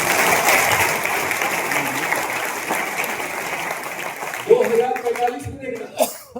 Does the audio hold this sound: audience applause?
yes